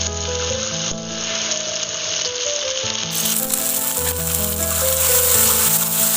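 An egg drops into a hot frying pan with tomato, a loud continuous sizzle and frying crackle over a steady hum, close and busy throughout, with no talking.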